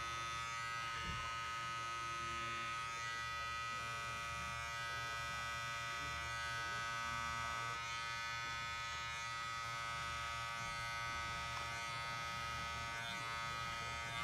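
Hair clippers cutting a men's modern mullet haircut, a constant close electric buzz with slight shifts in tone as the blades move through hair.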